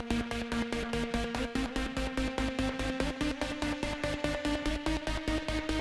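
Stutter synth chopped by auto pan and squashed with OTT compression: a rapid, steady stream of evenly pulsed chords with punchy low thumps underneath, loud and continuous throughout, no talking.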